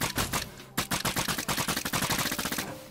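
Rapid gunfire in the video game Minecraft Dungeons rattles out in fast repeated bursts, loud and close, with a brief pause before a long continuous volley that trails off at the end.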